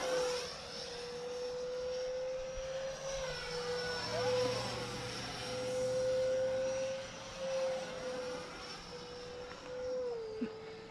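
An E-Flite F-15 Eagle radio-controlled jet with a 64mm electric ducted fan flies past, giving a steady high-pitched whine with shifting Doppler sweeps, at moderate distance and sustained throughout.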